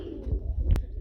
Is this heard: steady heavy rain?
no